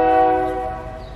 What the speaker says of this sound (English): We have a train that passes through like every half hour here.